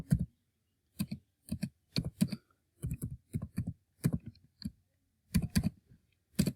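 Keys on a computer keyboard being tapped while entering a password, a run of quick clicks in short irregular bursts with brief pauses, close and clear with no talking.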